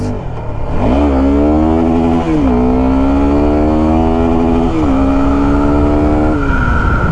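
A Suzuki Gixxer SF 250 motorcycle with a 250cc engine revs loudly and close by, climbing through several throttle blips and holding high rpm between them, with no voices.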